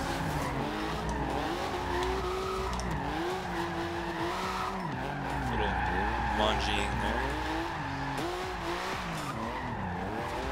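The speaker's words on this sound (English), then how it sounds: "I love the sound of this car. Porsche motors sound pretty awesome." A 1982 Porsche 911 Turbo 3.3 drifting in a racing video game: a loud, steady engine drone that rises and falls with revs, overlaid by continuous tire squeal, with a brief spoken word over it.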